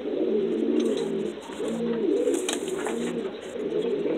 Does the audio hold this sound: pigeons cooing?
yes